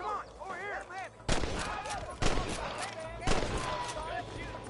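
Gunfire in Red Dead Redemption: three loud, sharp shots spaced about a second apart, each with a short echoing tail, amid background game noise and voices.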